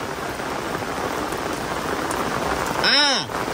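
Heavy rain hisses steadily and densely on a surface, with a brief sweeping tonal whoosh passing near the end.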